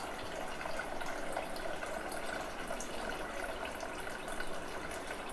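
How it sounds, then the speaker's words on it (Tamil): Water flows slowly from an Aquaguard water purifier tap in a home kitchen, a faint, steady trickling hiss that continues without a break. "ரொம்ப பொறுமையாக தண்ணி வருது,"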